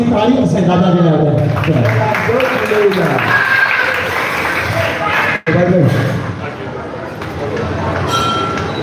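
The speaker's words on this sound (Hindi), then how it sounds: "हिकु असीं ताली असां दादा जे लाइ" Audience at the Shri Chalia Sahib Jhulelal festival clapping for Dada Jhulelal, a loud crowd sound mixed with speech and chanting, with a brief pause midway.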